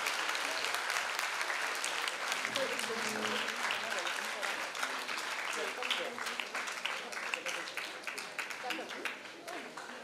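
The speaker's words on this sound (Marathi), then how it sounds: "टाळ्या झाल्या पाहिजे सागर सरांसाठी पुन्हा एकदा." Sustained applause from an audience at a felicitation ceremony in an auditorium, many hands clapping steadily for about ten seconds, loud and dense, gradually easing toward the end.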